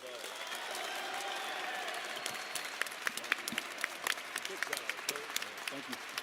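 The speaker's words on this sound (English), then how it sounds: "Clap for him like you like him, not like you're mad at him." A crowd applauding a new football coach at an Alabama A&M introduction event, scattered clapping building into sharper individual claps over a murmuring background, a voice speaking underneath.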